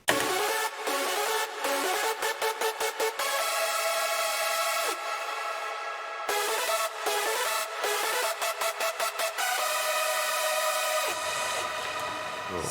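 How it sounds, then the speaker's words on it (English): A complete electronic dance track plays with layered synth melody and chords, dense and loud, pulsing in rhythmic gated bursts that break for short drops before the full sound returns. "And with the chords, we have the full sound."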